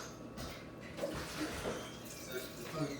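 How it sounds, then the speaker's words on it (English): Water being poured out of a pot of rice, a faint running trickle and splash close by with some clinking, mixed with soft background noise and no clear talk. "pour some water out."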